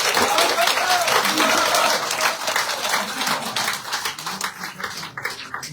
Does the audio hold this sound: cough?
no